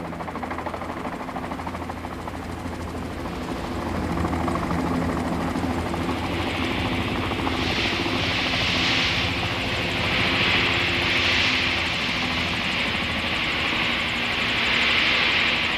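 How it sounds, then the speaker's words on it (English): A helicopter's steady rotor and engine drone rumbles continuously near the Taklamakan Desert in China, growing louder partway through with a rising whine, no voices. "one team landed in Lolan by helicopter"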